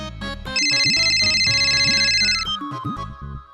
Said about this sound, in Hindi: अरे फोन बज रहा है, कोई फोन उठाओ।